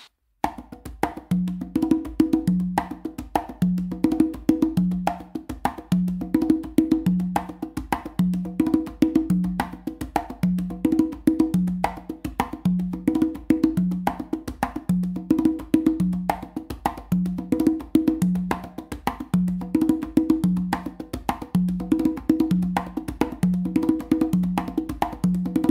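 Congas playing the third A Caballo variation, a steady galloping pattern of hand strikes repeating evenly throughout, moderately loud and close with no voices.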